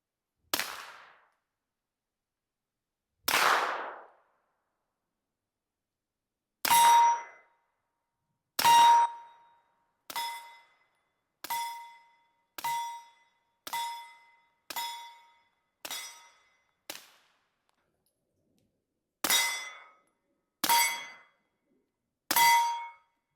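A suppressed CZ P09 C Nocturne pistol fires a string of shots outdoors, each a sharp, muted crack followed by a bright metallic ring from a steel target, spaced irregularly at roughly one to three second intervals.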